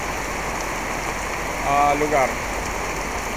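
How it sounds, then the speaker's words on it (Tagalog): Heavy rain pours in a steady, dense hiss that drives people to shelter in a hut. A voice speaks briefly over the constant downpour. "malakas ang ulan dito"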